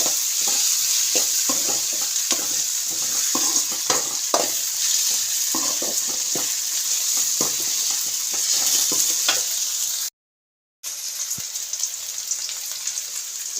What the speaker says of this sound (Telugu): ఇంకా ఎర్రగడ్డలు అయితే వేగిపోయింది. టమాటా వేసుకున్నాము, కొంచెం ఉడుకుతుంది.